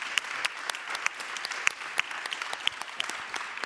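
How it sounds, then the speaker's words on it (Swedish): Audience applause at an awards gala in Uppsala, a steady dense clapping from a sizable crowd with a few sharper, louder claps standing out, continuing alone without talk. "Jag tycker att Stefan är värd en applåd."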